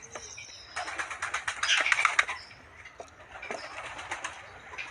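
Wet Kalshira pigeons, fresh from a bath, give bursts of rustling, flapping wings with faint cooing, close and moderately loud, then quieter shuffling.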